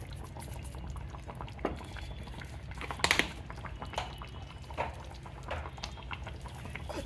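Fish curry simmering in a pot, a close, quiet bubbling with irregular pops and small splutters throughout, no talking.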